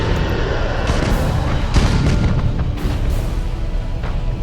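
Starship weapon batteries firing in a space battle in Battlefleet Gothic Armada, a loud continuous rumble of booming blasts and explosive thuds layered densely over one another.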